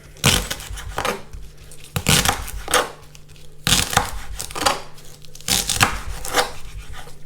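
A knife slices through leeks on a cutting board in four separate bursts of crisp, crunchy cuts, each followed by a soft tap of the blade, all close and clear with no talking.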